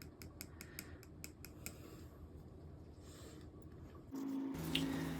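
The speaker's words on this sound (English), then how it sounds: "So maybe I'll stir it first." Colourant stirred into mixed resin in a cup makes soft, close, wet squishing and scraping, with a quick run of rhythmic clicks at the start and a brief clunk near the end.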